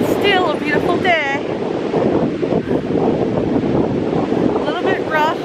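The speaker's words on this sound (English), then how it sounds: "Little windy by the lake today." Strong wind gusting by a lake on a sunny, rough-water day, a loud steady roar buffeting the microphone throughout, with people talking over it at the start and end.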